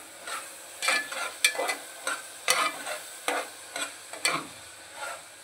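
Halved garlic cloves frying in oil for pepper chicken, stirred with a spoon in regular scraping strokes over a low sizzle, about a dozen close, even pulls, no voices.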